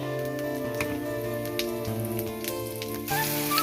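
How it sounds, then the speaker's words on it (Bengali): Dried red chilli, bay leaf and cumin seeds hit hot oil, giving a brief bright crackling sizzle with scattered spits over a background of steady music. "ফোড়নে দেবো শুকনো লঙ্কা, তেজপাতা, সাদা জিরে"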